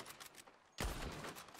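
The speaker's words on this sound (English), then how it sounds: "I see you shooting air." Gunshots are fired into the air in Red Dead Online, a burst of rapid, loud shots breaking in after quieter, faint pops.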